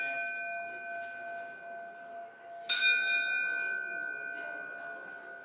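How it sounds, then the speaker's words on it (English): A single bright metallic ship's bell strike rings out partway through and decays slowly over a steady tonal hum, fairly near, at a ceremony for the submarine USS Montana (SSN 794). "I can't wait to tell my crew how many important people rang the bell."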